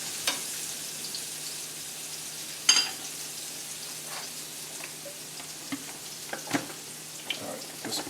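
Spice-rubbed pork tenderloin sizzling in a hot pan just after being flipped, a steady close hiss with a sharp clatter near the start and a few small pops and taps.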